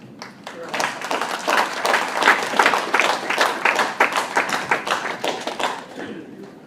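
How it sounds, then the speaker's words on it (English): Applause in the Philippine Senate chamber, many hands clapping in a crisp burst that swells, peaks, then gradually thins out. "I think that deserves a round of applause."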